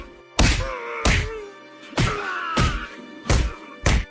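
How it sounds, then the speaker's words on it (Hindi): A group beats a man in a village setting, giving six heavy, dull thuds at irregular intervals, each mixed with groaning cries. "फिर सब मिलकर मलखान की अच्छी धुलाई करते हैं।"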